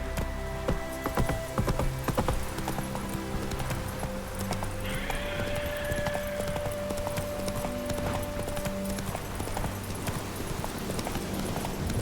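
Steady, rhythmic clip-clop of horse hooves galloping in The Witcher 3 video game, continuous and fairly close over background game music.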